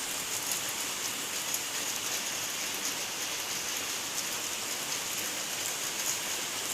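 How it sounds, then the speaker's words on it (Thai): Heavy rain pours down during a flood in Mae Sai, Thailand, in a dense, constant hiss, steady and unbroken throughout with no voices. "ตอนนี้ฝนก็ยังตกค่ะตกไม่หยุดเลยนะคะ"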